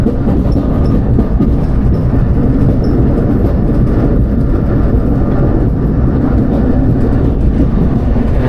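Steady, loud rumble of an Afrosiyob high-speed train in motion between Tashkent and Samarkand, heard from inside, with continuous low-frequency roar and faint rhythmic rattling throughout.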